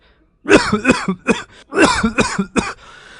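A person coughs repeatedly and hard, indoors in a room while holding a handkerchief to the mouth, in several harsh bursts with short pauses between them, loud and close with no talk.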